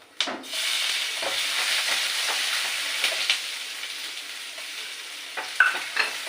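Five-spice and dried red chillies sizzle in hot oil in a pan, a steady close hiss broken by a few stirring scrapes and clinks.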